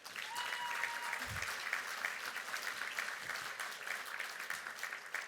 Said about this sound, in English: Let's have another round of applause for all of the amazing speakers, all of the presenters, and all of the performances tonight.